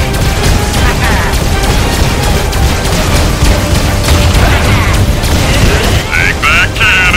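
In the Skylanders Trap Team video game, a cannon is blasted apart amid loud, dense booms and crashing impacts, with game music and effects layered throughout.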